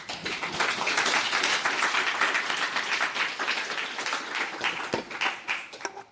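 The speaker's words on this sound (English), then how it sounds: "Let's have a round of applause." Audience at a founders' demo and networking event applauds steadily, dense clapping filling the room and tapering into scattered claps near the end.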